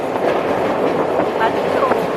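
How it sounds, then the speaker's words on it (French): A tram runs along a bay, a steady rumbling rail noise with brief squealing tones, heard close and continuous under outdoor ambience. "Et là en fait le tramway, t'as vu, il longe"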